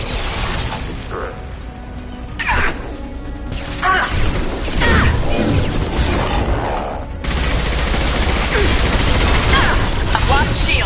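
Automated turret firing in the sci-fi shooter Mass Effect 2, bursts of rapid gunfire and crashing impacts layered with game effects, pausing briefly then resuming loud and continuous.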